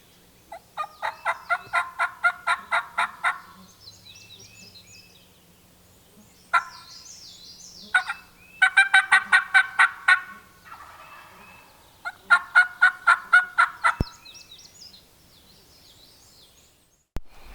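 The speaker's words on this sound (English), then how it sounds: "That's two gobblers." Wild turkey gobblers gobble outdoors during a hunt, in several loud rattling bursts with pauses between them, two birds calling at moderate distance.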